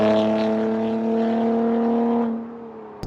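A 3.6-litre engine breathing through new Jones mufflers and an X pipe, a loud steady droning exhaust note that fades over the last second, ending with a sharp click.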